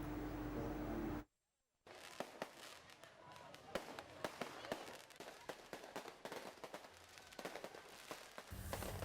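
Rapid crackling bursts of a New Year's Eve fireworks show pop and bang continuously over an open field in Parepare, with sharp loud reports scattered through a dense crackle, after a brief silent gap.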